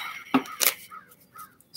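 Birds call near a barn: two loud, harsh crow-like caws close together at the start, then a few fainter chirps, with low road noise in the background.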